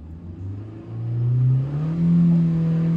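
A car engine revs steadily and loudly as a learner driver eases off the clutch, the pitch climbing gradually from a low idle into a sustained higher whir.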